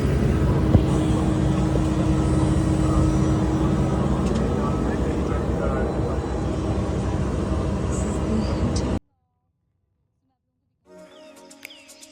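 Steady loud drone of a passenger aircraft's engines heard from inside the cabin on a domestic flight, filling most of the clip before cutting to near silence, then faint quieter sounds return near the end.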